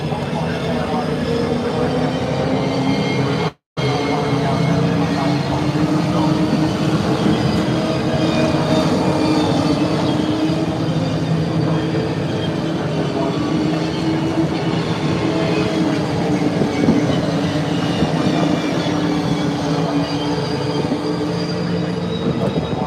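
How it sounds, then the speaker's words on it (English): V8 Supercars race cars do burnouts at the Bathurst 500, making a continuous loud roar of engine and tyre noise that stays at a steady level throughout, with one brief dropout near the start. "some burnouts"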